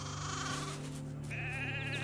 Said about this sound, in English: Ugh, these fucking sheep.